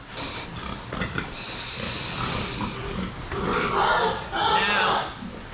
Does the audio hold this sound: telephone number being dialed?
no